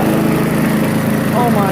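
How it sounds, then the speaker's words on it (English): An old 1987 18 hp Craftsman lawn mower engine runs steadily and loudly up close, a continuous rough drone with a faint higher whine, running poorly. "It's a lawnmower."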